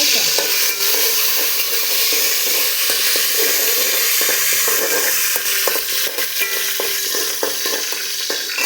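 Whole spices (bay leaf, cardamom, cinnamon and garam masala) sizzle steadily in hot oil in a pan while being stirred, giving a loud, continuous crackling hiss with light scraping of the spoon throughout.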